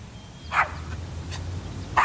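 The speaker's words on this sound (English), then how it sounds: "Do you want me to call your dog for you?" A dog barks in short, faint yips, two brief barks spaced about a second and a half apart over a low steady hum, with no talking.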